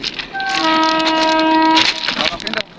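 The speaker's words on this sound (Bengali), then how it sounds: "ও ট্রেন আসতেছে, ট্রেন আসতেছে।" A train horn sounds in a long, sustained blast over the rumble of rail cars as the train approaches along the tracks at night, with voices talking in the background.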